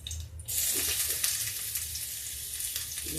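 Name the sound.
garlic frying in hot oil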